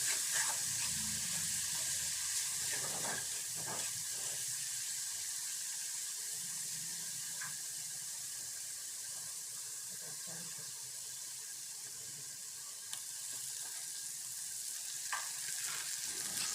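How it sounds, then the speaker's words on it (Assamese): Spice paste of cumin, turmeric and chilli powder with a little water sizzles steadily in oil in a pan for okra and onion curry, with occasional stirring and scraping clinks, close and continuous without talk. "গোটেইখিনি মছলা ইয়াতে দি অলপমান ভাজি লওঁ"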